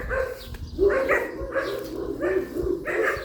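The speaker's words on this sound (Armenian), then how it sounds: "Որտեղ գնում ես շանձեն է գալի" A dog barks in a rapid run of repeated, somewhat whiny yelps and barks, close by and fairly loud over faint background noise, with no one speaking.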